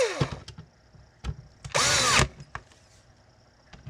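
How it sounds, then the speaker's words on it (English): A handheld power driver briefly whirs while tightening screws, one short buzzing burst amid small clicks and handling knocks, close by and otherwise quiet. "I'm using this guy to tighten the screws up"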